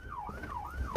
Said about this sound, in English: Let them leave the sirens on the whole time.